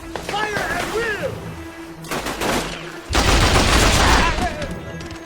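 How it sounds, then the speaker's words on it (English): AK-47 fire in Mercenaries 2: World in Flames on Xbox 360, loud rapid bursts and sustained volleys that grow heavier toward the end, mixed with shouting voices and battlefield noise. "AK-47, fine gun."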